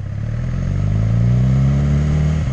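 Suzuki GSX-R 600 K9 streetfighter motorcycle engine revving up and holding a loud, close, steady roar that rises in pitch, with no talk.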